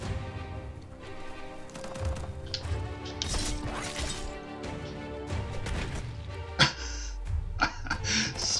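Enemy smashed in the video game Biomutant: a string of crashing thwacks and impact hits over game music, with one louder crash near the end.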